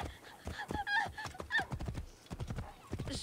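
Horse in the video game Assassin's Creed Origins, quick clip-clopping hooves with a whinny mixed in, brief and fairly quiet.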